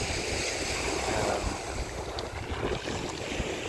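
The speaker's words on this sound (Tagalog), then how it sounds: "Pero malakas pa rin yung hangin dito." Strong wind buffets the microphone at a beach in a constant, rumbling roar, with waves washing in underneath, loud and unbroken throughout.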